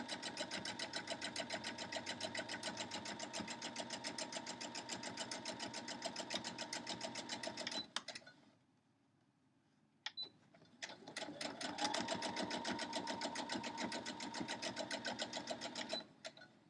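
A sewing machine stitches a star quilt block, running long and steady with a rapid, even needle rhythm, pausing briefly with a click, then resuming for a second long run.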